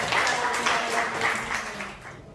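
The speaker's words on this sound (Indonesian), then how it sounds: "tepuk tangan untuk Nabila" Audience applause after a student's poetry reading at a teacher certification assessment in Indonesia, a dense steady wash of many hands clapping together that fades out near the end.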